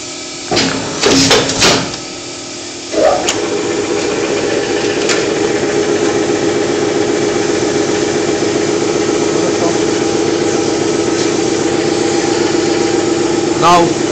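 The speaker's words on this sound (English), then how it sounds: "Now it's reached the bending process where it will be bending." An automatic die machine feeds and bends metal with a steady, droning mechanical hum and a fine, rapid rhythmic chatter. A few louder clanks and knocks come near the start, and the machine then runs evenly at a constant level.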